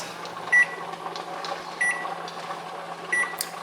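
Kitchen timer beeping three times at regular intervals while being set to 45 minutes during pressure canning of vegan spaghetti sauce in jars, short clear electronic beeps over steady background hum.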